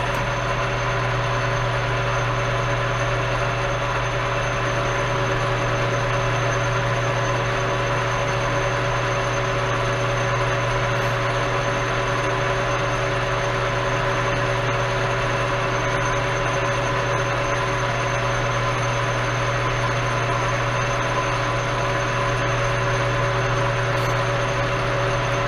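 Machine running steadily at 576 RPM during a fire pit cover and log grate build, a constant droning hum with strong low tones that holds evenly and alone throughout.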